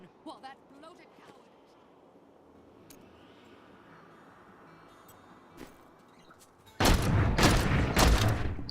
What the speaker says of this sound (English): now evasive fire has that explosion shot that Impale used to have